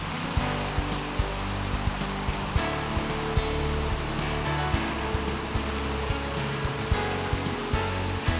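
Fountains at Place de la Concorde in Paris splash in a continuous, even rush of falling water, fairly quiet and unbroken, with faint small clicks and no voices.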